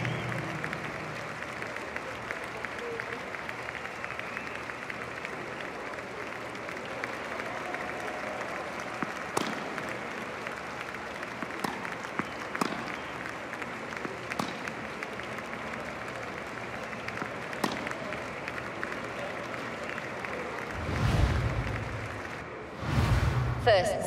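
Crowd applause fills a tennis arena in the video game Top Spin 2K25, a steady, moderately loud wash of clapping sustained throughout, with a couple of brief whooshes near the end.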